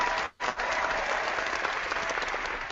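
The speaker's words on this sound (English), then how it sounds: "I think we need to give John, I think we need to give him a big round of applause here." Dense audience applause, steady and fairly loud, briefly dipping near the start before carrying on without voices.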